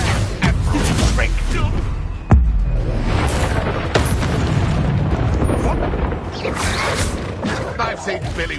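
The Incendio fire spell is cast in Hogwarts Legacy amid a noisy fight, a sharp burst followed by dense whooshing, rumbling magical and combat effects that stay loud throughout, with occasional voices.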